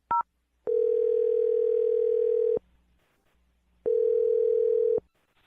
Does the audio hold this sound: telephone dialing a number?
yes